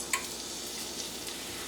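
Mushrooms dropped into a couple teaspoons of hot oil in a pan give a steady, soft, close sizzle with faint crackles, no voices.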